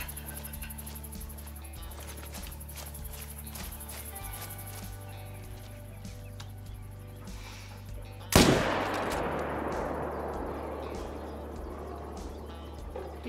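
A single loud rifle shot fired at a lion on the savanna in Call of the Wild hunting game, sharp and close, breaking a steady ambient hum and trailing off into a long rolling echo.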